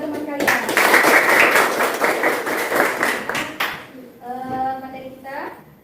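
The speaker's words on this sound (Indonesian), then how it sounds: "Berikan tepuk tangan untuk dua teman kalian." Classroom applause for two students, a dense burst of many children's hands clapping for about three and a half seconds before dying away, followed by a voice speaking.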